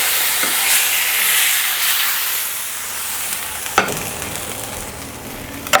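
Chicken searing in a hot pan, a loud, dense hissing sizzle that holds steady, then a sharp clatter and a second knock near the end as pieces are handled, close up with no talking.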